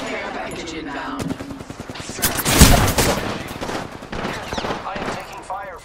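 Rapid gunfire in the video game Apex Legends, bursts of shots crackling through the whole stretch with a loud, dense peak in the middle, mixed with game effects and a brief voice line.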